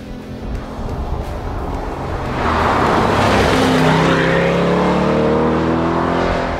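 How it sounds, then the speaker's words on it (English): A 2021 Corvette Stingray C8 with the Z51 package and a mid-engine V8 drives along. The engine drone swells louder partway through and holds a steady, strong note, with no voices. "It's a mid-engine car with a V8 in it."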